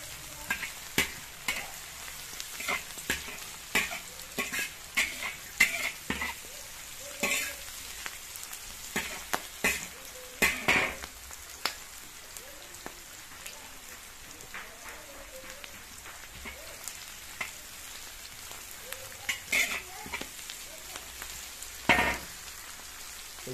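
Onions fry lightly in a pan for pasta, a fairly quiet sizzle broken by scattered sharp crackles and pops, like rain on a surface, continuing for a long stretch.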